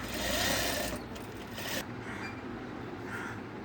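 A sewing machine stitches black and blue cloth together for a fancy latkan, a quick rattling hum that runs loud for about a second and a half before easing to a softer continued whir.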